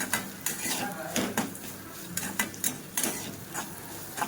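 A spoon stirs red chili masala in a pan, giving repeated quick metallic scrapes and clinks against the pan over a faint sizzle.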